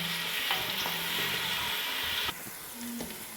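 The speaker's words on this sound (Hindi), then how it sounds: "तो इनको बहुत ज़्यादा नहीं करना फ्राई, ज़्यादा कलर नहीं देना प्याज़ों को" Roughly chopped onions frying lightly in oil for a biryani, a steady close sizzle with a few soft stirring scrapes and clinks, no voices.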